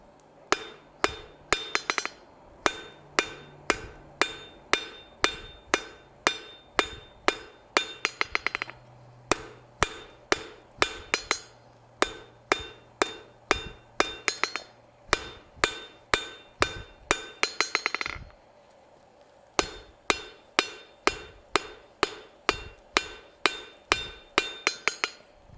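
A hammer rings against hot steel on an anvil while a decorative hacksaw is forged, with bursts of sharp, evenly spaced metallic blows separated by brief pauses, loud and close with no talk.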